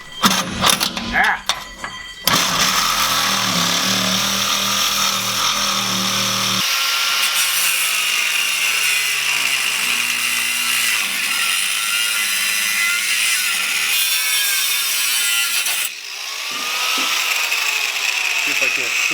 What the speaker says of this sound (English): this reciprocating saw is making quick work of it